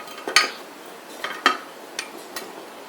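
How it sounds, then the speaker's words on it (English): A heavy lid is lifted off a hot cast-iron Dutch oven of cowboy potatoes cooked outdoors, making a few scattered metallic clinks and scrapes, a couple sharper knocks then fainter taps against a quiet background. "I'll sit that lid down on the trivet."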